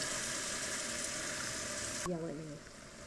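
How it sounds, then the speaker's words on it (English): Sweet Marsala wine reducing in a hot pan for a venison dish, a steady close sizzle and bubbling that runs on alone, then softens as a brief clink and hum break in near the end. "Okay, we have the wine in there. We're going to cook it down by half"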